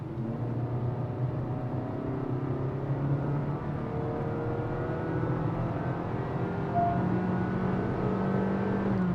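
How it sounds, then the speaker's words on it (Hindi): A 2023 Honda Elevate engine revs and hums steadily from inside the cabin after a paddle-shifter downshift, pitch shifting up and down as the gears change, with no talking. "Listen to the engine now."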